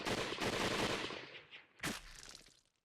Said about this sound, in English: Then I heard the furious bangs of a group of guns firing at once